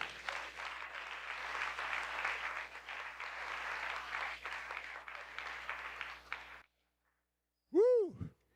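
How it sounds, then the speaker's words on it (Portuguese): A church congregation applauds steadily for about six and a half seconds, a dense wash of clapping that cuts off abruptly, followed by silence and a brief tonal sweep near the end. "Se você crê, aplaude o Senhor."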